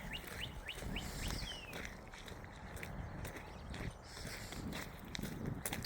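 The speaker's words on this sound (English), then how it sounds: "Birds are chirping." Small birds chirp in short bright calls outdoors in a garden after heavy rain, with soft footsteps and a damp background hiss.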